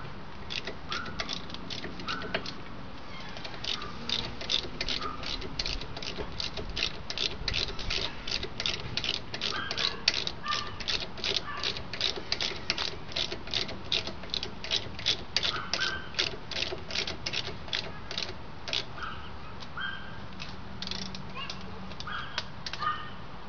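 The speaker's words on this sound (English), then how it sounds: "we're just going to tighten up these two bolts that we took out" Bolts being tightened back on a Pontiac Grand Prix brake job, heard as a fast, steady ratchet clicking that runs on for about twenty seconds, close and even, with faint bird calls in the background.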